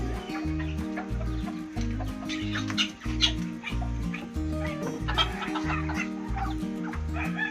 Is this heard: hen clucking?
yes